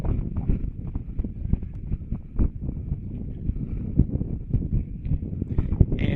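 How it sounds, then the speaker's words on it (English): Gusty wind buffets the microphone at a softball field's bleachers, a loud continuous low rumble with uneven bursts throughout and no voices. "on a windy day here, we're kind of making things work over here on the bleachers"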